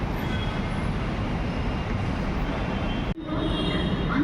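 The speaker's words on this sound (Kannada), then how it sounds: "ಇನ್ನೇನು ಬರ್ತಾ ಇದೆ ಗೈಸ್. ಬಂತು ಟ್ರೈನ್." A commuter train pulls into a station platform on a hot day, a loud continuous rumble and rolling clatter close by, with a brief sharp dip in the noise near the end before the roar resumes.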